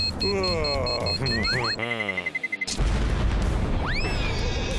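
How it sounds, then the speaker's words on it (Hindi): A cartoon bomb explodes on a banana in an animated Sonic the Hedgehog sketch, a sudden loud boom with a crackling, rumbling tail that follows whistling swoops and layered music. "उस पर एक बम लगा था।"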